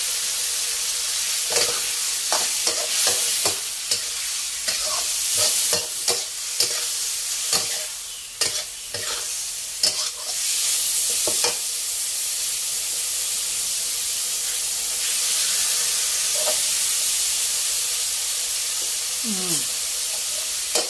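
Long beans and minced pork stir-fry in a hot pan with water just added, a steady loud sizzle running throughout under repeated sharp scrapes and clacks of the spatula, some coming in quick bursts.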